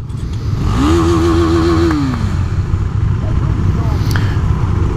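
A motorcycle engine with a sticking throttle revs up sharply, holds a high, steady whine for about a second, then winds back down to a rough idle, close and loud over a constant rumble.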